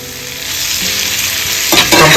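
Onions, chilies and curry spices fry in a pan with a steady loud sizzle, and a spoon scrapes and stirs near the end as the hiss surges.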